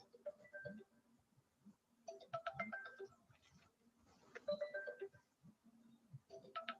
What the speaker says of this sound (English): Sorry, my phone. I want to switch it off.